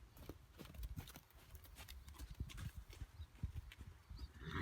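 Horse trotting on ground during groundwork training, faint rhythmic hoof thuds in a steady two-beat pattern at a distance, with soft outdoor background.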